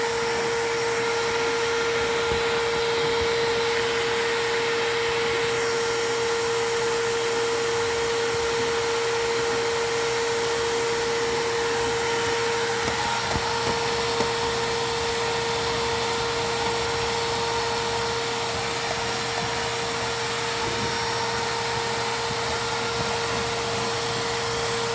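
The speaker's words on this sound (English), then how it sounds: "we're just going through here with a simple brush on the shop vac" A shop vac fitted with a simple brush attachment drones steadily and loudly as it cleans the interior of an old Pontiac Grand Prix, with a constant suction whine and faint scrubbing texture underneath.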